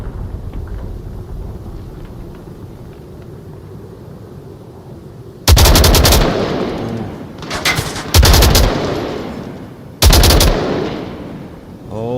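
Loud bursts of gunfire in the VR shooter Onward during a competitive match: three sharp volleys of rapid shots split by quieter stretches of background noise.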